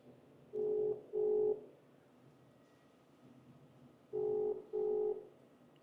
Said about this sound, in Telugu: ఒకసారి ఫోన్ కూడా చేద్దాం నీలం మదికే ఫోన్ చేద్దాం